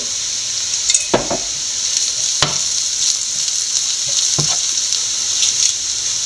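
Crushed dried chillies and curry leaves sauté in hot oil in a pan for a jackfruit-seed thoran. A steady close sizzle runs throughout, broken by a few sharp clinks and scrapes of stirring.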